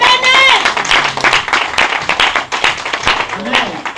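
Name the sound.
congregation applauding and cheering in church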